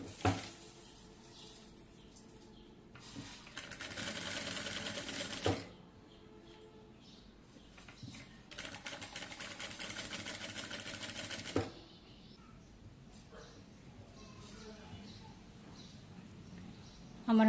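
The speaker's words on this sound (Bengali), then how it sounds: "তো দেখুন আমি হচ্ছে এরকম করে হচ্ছে ভাঁজ করে তারপর হচ্ছে সেলাইটা করব।" A sewing machine stitches a folded neck seam on a garment in two sustained bursts of rapid mechanical whirring, each lasting about three seconds, with quiet pauses and soft handling noise between them.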